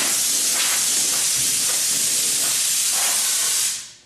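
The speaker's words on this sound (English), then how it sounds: "So we're going to blow it and wipe it off right now." Compressed air blows dust off a metal aircraft wing as it is prepared for primer: a loud, steady, close hiss that holds for about four seconds and then cuts off.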